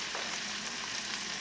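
Scallions and mixed vegetables sauté in a pan, giving off a steady, fairly quiet sizzling hiss that holds evenly throughout, with no voices.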